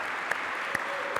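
Church audience applause forms a steady, fairly soft patter of many hands, with a few sharper individual claps standing out at intervals.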